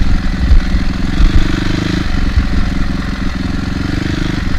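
Kawasaki KLX230 trail motorcycle engine running close by under a heavy rider, a steady low thrumming idle with a brief rise in revs near the start, no talking.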